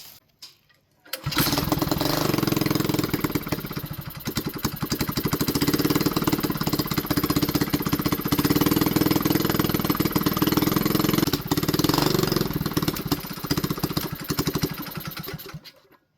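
A mini bike's small engine catches on the first pull and then runs steadily, a loud continuous buzzing drone that holds for about fourteen seconds before cutting off.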